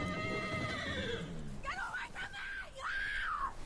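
A horse in the video game Red Dead Redemption 2 gives a loud, shrill whinny that trails off, followed by further wavering high neighs mixed with voices.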